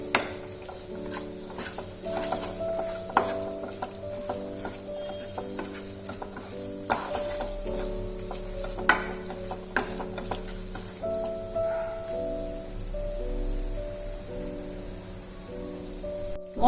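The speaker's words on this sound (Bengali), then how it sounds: "এবার ভালো করে মশলাগুলো একসাথে কষিয়ে নেব।" Spice paste sizzles in ghee in a pan for a Bengali bhetki fish korma, with steady frying hiss and occasional spoon scrapes as it is stirred, while background music plays throughout.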